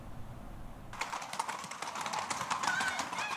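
Horses' hooves clopping at the Las Luminarias bonfire festival in San Bartolomé de Pinares, Spain, a dense, irregular stream of clip-clops that starts abruptly and continues over a noisy outdoor crowd background, fairly distant and moderate in level.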